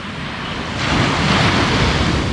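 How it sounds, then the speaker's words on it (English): Surf crashes and rushes steadily onto the shore at Al Bustan Beach in Muscat, Oman. The loud, broad wash swells partway through, and wind buffets the microphone. "Just listen to the sound of the waves crashing on the shore"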